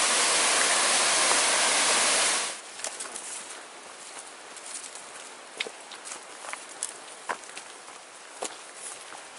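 Loud, steady rushing of a waterfall on Oregon's Eagle Creek Trail for about two seconds, then it cuts to a quieter outdoor scene with scattered footsteps and light knocks.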